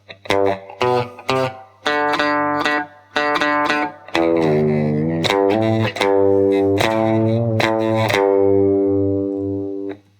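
An electric guitar plays a bouncy, twangy rockabilly solo of short picked notes and quick runs, with some muted stops and a sustained note at the end.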